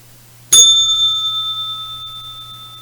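A single bright bell is struck once, loud and close, then rings out with a long, slowly fading tone.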